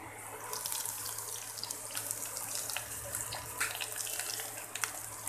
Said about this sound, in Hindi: अभी मैं ये कांदा डालती हूँ इसमें।